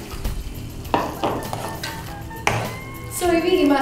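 Crab shells clatter and clink against a pan as crab curry cooks in coconut masala, with irregular metallic knocks and stirring scrapes over a low sizzle, and a voice talking faintly in the background.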